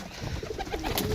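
Pigeons coo softly in a rooftop loft holding about 130 birds, a short low throaty call close by over a steady background murmur.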